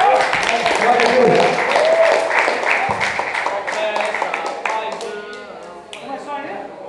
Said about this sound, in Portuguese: Dá uma salva de palmas para o Senhor aí, que Ele é digno.